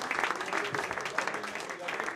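An audience applauds a former Olympic athlete at a prize-giving event, a sustained patter of clapping heard under a voice speaking over it.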